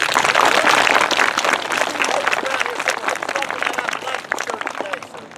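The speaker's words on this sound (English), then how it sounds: "let's give Mr. David Brooks a big round of applause" A crowd at an elementary school tower ribbon cutting applauds loudly, dense clapping that starts strong and slowly thins out, with some cheering mixed in.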